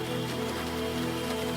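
Light monsoon drizzle in Kolkata, a steady soft patter of rain under a constant low hum, heard from inside a taxi with no voices.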